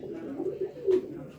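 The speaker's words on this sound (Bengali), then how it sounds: "কবুতরটা ছাইরা দেখাই" Pigeon cooing from a loft of imported breeding pairs, a low soft coo heard close, with a brief brighter flutter or rustle near the end.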